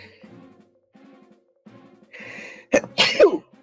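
A single loud sneeze bursts out sharply near the end, preceded by quieter voices and low murmurs in the room.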